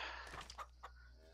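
A few soft clucks from a chicken among baby chicks in a farming game, faint and intermittent over a steady low hum, with no voices.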